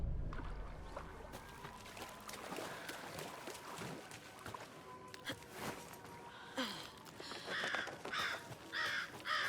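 A crow caws in the video game Alan Wake 2. Several harsh caws come near the end, after footsteps and faint ambient sounds.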